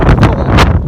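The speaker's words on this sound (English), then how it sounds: "cold, so windy." Strong wind buffeting the microphone on the Connecticut coast of Long Island Sound on a cold day at a surf spot, a loud continuous roar with gusty surges throughout and no talk.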